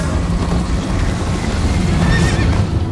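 A horse in the video game Minecraft: Story Mode neighs loudly and repeatedly over a dense, busy background, with a shrill whinny rising near the end.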